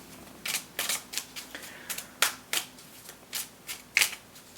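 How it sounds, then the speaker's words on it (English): Cards being shuffled in quick riffling bursts, about a dozen crisp rustles in an uneven rhythm, close and clear with no talking. "I'm going to put them back in and continue shuffling."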